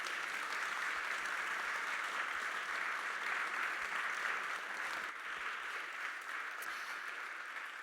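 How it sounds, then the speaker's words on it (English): Sustained round of applause from a conference audience at a leadership panel, steady dense clapping from many hands throughout, fairly distant and even in level. "can we all give them a round of applause?"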